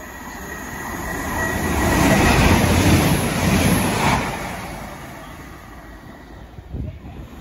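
A train runs through Lostock station without stopping, a broad roaring rush that builds, peaks, then fades as it passes close by the platform.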